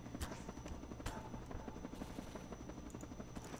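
Helicopter rotor thumping in Garry's Mod TTT, a steady chopping drone with sharp clicks over it, fairly quiet.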